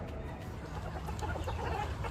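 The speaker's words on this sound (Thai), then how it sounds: "โอ้ ไก่เยอะแยะ" A crowd of chickens clucks and murmurs steadily at a chicken farm, a dense, continuous flock noise with roosters mixed in and no clear talk.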